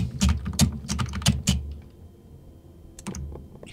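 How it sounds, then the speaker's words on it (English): Loud clacking from a computer keyboard during a Starbound gaming session, with quick bursts of close keystrokes, then a pause, then a few more clicks, heard alone with no talk. "You have such a loud keyboard."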